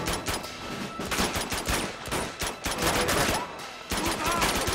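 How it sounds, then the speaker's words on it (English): Rapid automatic gunfire in Uncharted 2: Among Thieves, dense loud bursts of shots nearly continuous with brief gaps, close and dominant. "The recoil on this gun is balls."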